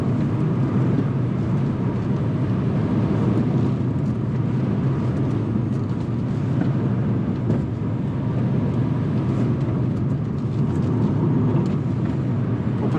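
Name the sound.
electric Mini John Cooper Works accelerating in sport mode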